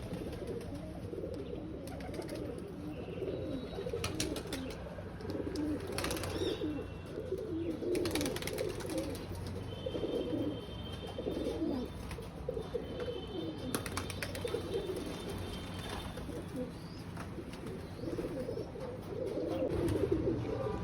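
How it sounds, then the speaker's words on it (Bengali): Several domestic pigeons cooing continuously close by at a home, soft low rolling coos overlapping one another, with occasional brief flutters and sharper clicks as birds come down. "তো একটা একটা করে নামছে পায়রা"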